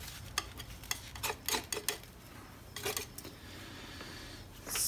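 Palette knife scraping and unloading paint from a palette during abstract painting, a series of short, close scrapes and taps in irregular bursts, with a brighter scrape at the end.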